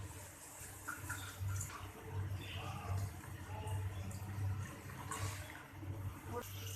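Water pours into a spiced pani phulki mixture to thin it, a soft trickling and splashing that runs under a voice talking nearby.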